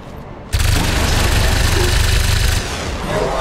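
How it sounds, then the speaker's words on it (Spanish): A missed shot in the video game XCOM 2 erupts as a loud, sustained burst of rapid gunfire lasting about two seconds, then cuts off, leaving a quieter background rumble. "El disparo no ha dado."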